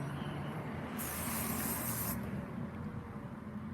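Short burst of carburetor cleaner sprayed onto a dusty bicycle part being cleaned: a steady close hiss lasting about a second over a low background rumble, with no talking.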